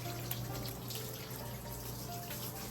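Tap water runs steadily and close at a kitchen sink while a cutting board used for Japanese fish filleting is rinsed, a continuous even wash with no pauses and no talk.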